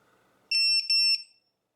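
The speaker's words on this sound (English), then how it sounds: "the chirping you get once 5 minutes have elapsed" A Vifly drone finder beacon sounds its chirping alarm, three loud, piercing electronic chirps in quick succession close by, after a faint quiet start.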